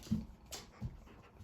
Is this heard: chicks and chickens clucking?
no